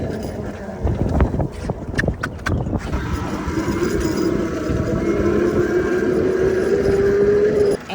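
A Tuttio Soleil 01 electric pitbike rides around the block, its motor whine rising steadily in pitch as it accelerates, over rough tire and road noise with some clatter, up close.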